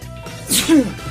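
A single sharp sneeze bursts out close by, a brief breathy intake followed by an explosive vocal snap, set against quiet room tone in a college-life drama scene.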